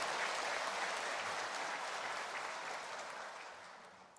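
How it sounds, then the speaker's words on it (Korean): A Korean Presbyterian church congregation at Sunday worship applauds in congratulation of new baptized members, a broad wash of many clapping hands that begins full and slowly fades toward the end, reverberant and unaccompanied by speech. "축하의 박수 시다"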